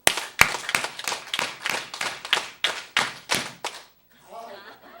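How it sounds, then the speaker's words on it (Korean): A church congregation at a Sunday service performs health clapping, eleven loud unison claps in a steady rhythm, then a brief pause before quiet talking begins. "건강박수 11번 딱 치고 집중하는 의미로 11번 한 번에 딱 끝냅시다"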